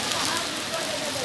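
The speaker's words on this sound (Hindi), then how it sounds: "बारिश भी है और बर्फ़बारी भी है।" Rain mixed with hail falls steadily in Medina, a dense continuous hiss of drops striking surfaces, fairly loud and unbroken for the whole moment.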